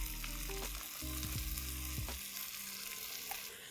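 Ground cashew masala paste sizzles with seared mutton in a pan, a close frying hiss with low clunks and scrapes of a spoon stirring in the first half, then steady sizzling alone.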